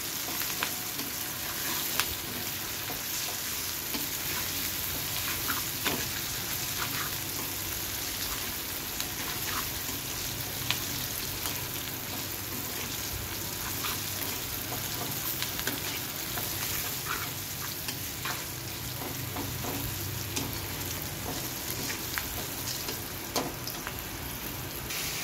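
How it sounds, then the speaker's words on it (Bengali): Mung dal frying in a pan, a steady, even crackling sizzle that runs on without a break, close and moderately loud, with faint scattered pops and no voices. "এখন মুগ ডালটা খুব ভালো করে ভেজে নিচ্ছি"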